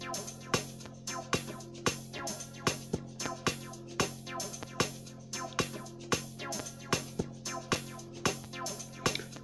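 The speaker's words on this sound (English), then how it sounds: "My next instrument, guys, are the 808 hats, which sound like this." 808 hi-hats tick in a steady, even pattern over a low 808 bass in an FL Studio Mobile beat, crisp and regular from start to finish at moderate volume.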